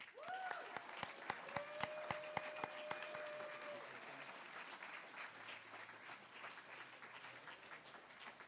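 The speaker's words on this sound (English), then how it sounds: "Please give a giant round of applause to Dr." Faint, distant audience applause at an engineering club awards banquet, with a few sharper individual claps early on before the clapping thins out into a soft, steady patter.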